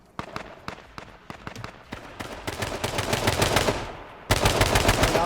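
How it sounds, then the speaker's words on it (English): Rapid gunfire bursts from the battle royale game H1Z1 in a 2017 Champions Arena match, sharp repeated shots crackling close and loud, building into dense sustained automatic fire near the end. "Now firing down towards Prometheus"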